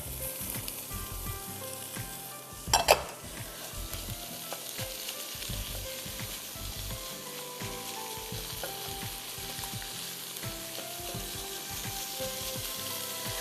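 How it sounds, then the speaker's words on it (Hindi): Lentils and potatoes sautéing in a pan give a steady, close sizzle with repeated stirring scrapes and one sharp clatter early on, no voices over it. "हम हल्का सा इसको सौते कर देते हैं ताकि दाल और आलू में इसका टेस्ट आ जाए।"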